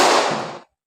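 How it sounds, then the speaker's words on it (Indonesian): A single sharp burst of a classroom of students clapping together on command, loud and close, fading out quickly into silence. "Tepuk 2 kali."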